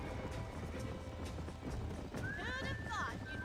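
Horses in a Red Dead Redemption game scene, with hooves clopping under continuous talk and a rising whinny breaking out near the end.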